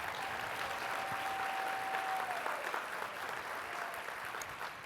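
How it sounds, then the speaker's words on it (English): At the 2023 Nightingale Awards ceremony, an audience gives sustained, even applause for the award runners-up. The applause sounds fairly distant and muffled, and a faint steady tone runs partway through it. "Let's give one more applause for all of them."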